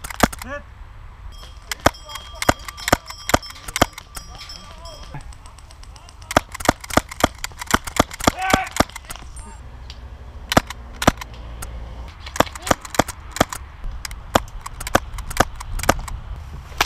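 A suppressed SSX-23 non-blowback pistol fires dozens of sharp, dry snapping shots, some in quick runs and others spaced apart, close and crisp over a quiet background.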